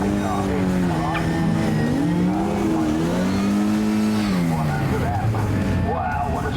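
A racing car at the Prescott hillclimb motor sport event sings past with a rising and falling engine note that stays loud and continuous; a commentator speaks over it.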